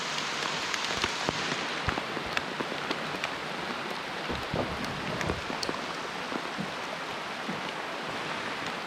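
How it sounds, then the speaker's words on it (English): Rain falls steadily near a huge waterfall in Tennessee, a continuous close hiss with scattered sharp drop impacts throughout and no voices. "It's raining right here, it's clear over there."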